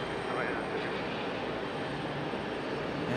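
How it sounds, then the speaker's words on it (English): A JetBlue airliner and a Boeing 777 taxi at Raleigh-Durham airport, a steady broadband engine roar holding at moderate distance throughout with a voice talking over it. "There you go, a little JetBlue and"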